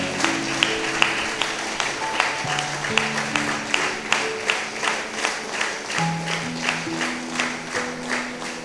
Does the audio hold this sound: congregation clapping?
yes